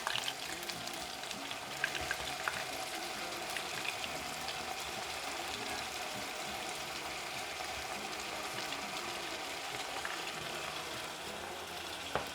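Potatoes frying in hot oil with onions in a pan on the stove, a steady, fairly quiet crackling sizzle that runs on evenly throughout with scattered small pops.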